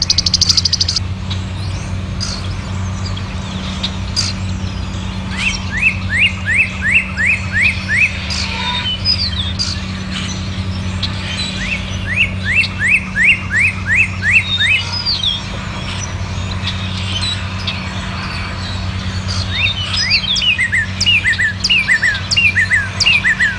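A northern cardinal sings clear, loud whistled phrases, each a rapid run of repeated slurred notes, delivered in several separate bursts over a quiet background hum.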